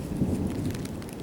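Steady broadband rain from a thunderstorm hisses and patters throughout, with a low rumbling undertone suggesting distant thunder, continuous and even in loudness without talk.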